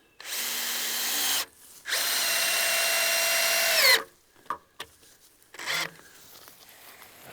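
A power screwdriver drives a screw into wood in two long, loud whirring runs, the second winding down as the screw seats, followed by a few short clicks and a brief final burst.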